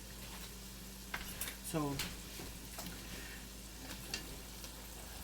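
Empanadas fry in hot oil with a soft, continuous sizzling hiss, faint and steady beneath a man's brief speech.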